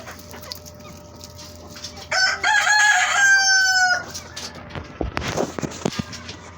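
A rooster crows loudly nearby, followed by softer clucks and scratchy rustling from chickens close to the recorder.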